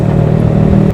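Yamaha R15 V3 motorcycle fitted with a Daytona Evo racing exhaust, giving a loud, close, steady engine drone with a strong buzzing low tone for about a second, no voices.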